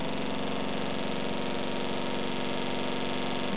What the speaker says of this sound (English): what I'll do first is just connect the power for this DC motor.